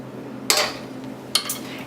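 A metal whisk scrapes and taps against a handheld strainer while pushing béchamel sauce through, two sharp clinking strokes with brief rattling tails over quiet kitchen background.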